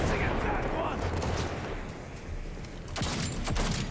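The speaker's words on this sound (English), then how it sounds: "Here, detonate a grenade." Grenade blast in Cyberpunk 2077 combat: a dense, rumbling burst of gunfire-like noise with loud low-end booms near the end, under a continuous roar of game action.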